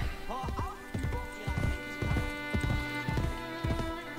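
A horse gallops in Assassin's Creed Brotherhood, the steady clip-clop of hooves pounding in a quick, regular rhythm throughout, close and fairly loud over a faint musical backdrop.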